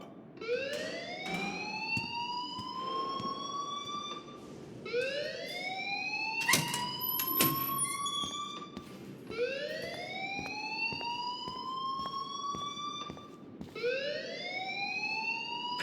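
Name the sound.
school alarm ringing in video game Life Is Strange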